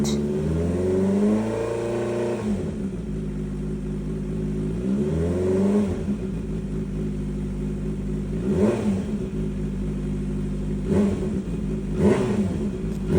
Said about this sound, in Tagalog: Full system with Leubin's exhaust side exit